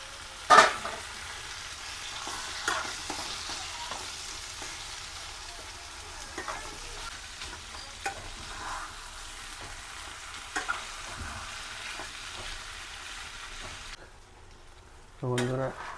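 Chicken pieces frying in oil in a pan for chicken curry, stirred with a spatula: a steady low sizzle runs throughout with scattered scraping clinks, a sharper clatter near the start and a brief louder clatter near the end.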